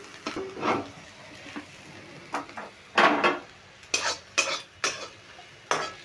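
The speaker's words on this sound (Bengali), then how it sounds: "এটা এই সবজিগুলোর মধ্যেই আমি ঢেলে নিচ্ছি।" Fried capsicum goes from a pan into a pan of vegetables for fried rice, heard as a run of scraping and clattering utensil knocks with a light sizzle underneath, close and uneven.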